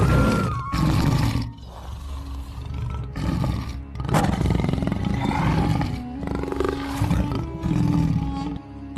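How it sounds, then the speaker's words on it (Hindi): A lion roars loudly and repeatedly in a wild cartoon-story setting, several long rumbling roars rising and falling over about nine seconds with brief gaps between them, close and dominant with no talking. "एक शेर की आवाज सुनाई देती है।"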